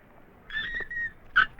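A puppy whimpers in a comedy scene, giving two or three short high-pitched whines close by with quiet gaps between them.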